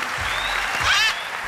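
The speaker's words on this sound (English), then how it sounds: "Ladies and gentlemen, big applause" Audience applause at a Got Talent show after a parrot act, a steady broadband clapping wash lasting the whole moment with a brief bird-like whistle rising over it near the end.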